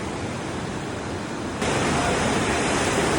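The Aare river in Switzerland rushes in a dense, continuous roar of flowing water, loud and close, stepping up in volume partway through with no voices.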